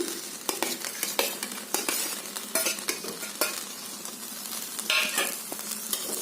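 Paneer frying and being stirred in a pressure cooker for pulao, a constant crackling sizzle with frequent sharp metallic scrapes and clinks of the spoon, close and with no talking.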